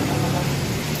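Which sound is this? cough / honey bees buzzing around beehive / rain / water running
rain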